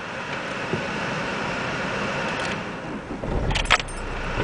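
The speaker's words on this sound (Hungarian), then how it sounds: "Tehát beindult a motor" An Opel Astra 1.7 diesel combi is started with the key: a steady rumble, then a short clatter of keys and a brief loud burst of engine cranking near the end.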